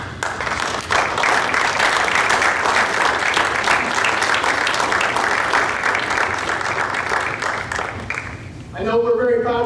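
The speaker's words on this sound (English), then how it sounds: "Officer graduates, please stand and turn to applaud your family members and friends who have supported you" Graduating officers at a 2018 Des Moines University military commissioning ceremony stand and applaud their families and friends, a loud, dense, sustained burst of clapping filling a hall for most of the moment before fading as a voice resumes speaking.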